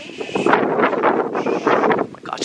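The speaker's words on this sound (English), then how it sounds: "Oh my gosh, it's so windy outside." Strong wind gusts outdoors buffet the microphone in loud, uneven rumbling bursts that rise and fall over a couple of seconds.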